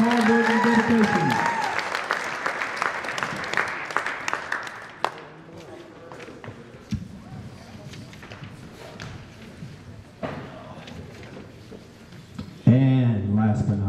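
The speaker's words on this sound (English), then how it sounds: "let's give a big round of applause for all our seniors here tonight." Applause rings out at a high school wrestling senior night in a gym, loud and dense at first, then thinning into scattered claps and thuds as a voice speaks over it.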